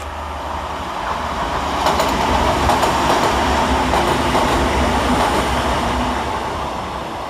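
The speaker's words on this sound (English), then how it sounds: "Rounding the corner for Transpennine Express is 185109, working 1K20 from Hull to Liverpool Lime Street." A TransPennine Express class 185 diesel train rounds a curve into Newton-le-Willows station, a loud continuous rumble with rail clatter that swells midway and holds close, with no talking.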